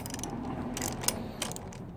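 A wrench tightening a bolt on a GY6 scooter engine makes soft ratcheting clicks and mechanical rasps, heard close over a steady background hum.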